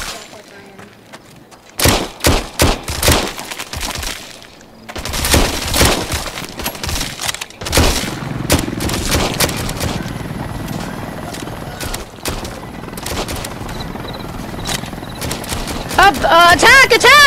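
Video game gunfire comes in bursts of rapid shots alongside loud game sound effects and excited talking, dense and continuous over several seconds.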